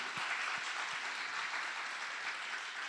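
Church audience at a young adults' Sunday service clapping in a soft, continuous patter, fairly faint and distant, with a few louder claps near the start.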